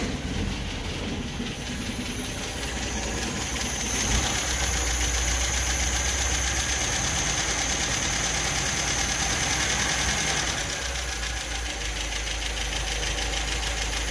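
A 1974.5 MGB's engine runs at a steady, loud idle close by, with a continuous rough rumble that stays even throughout and no talk.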